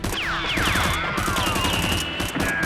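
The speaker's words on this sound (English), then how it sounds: "He walked up and shot at the SWAT officer once more." Nerf guns fire in a staged gunfight, loud and close, with rapid overlapping bursts and whooshing, laser-like sweeping effects over dense, continuous popping.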